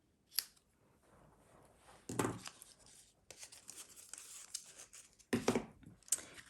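Scissors snipping the tails of a ribbon at an angle on a papercraft project, giving a few sharp, close cuts separated by rustling pauses, with no voices.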